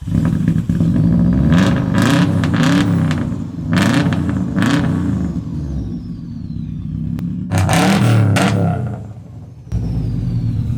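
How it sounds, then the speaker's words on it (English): A car engine cold-starts in a garage alongside a Lamborghini and a Golf, roaring loudly with repeated sharp revs, a brief dip, then another burst of revving and a steady idle. "That is what you call a cold start"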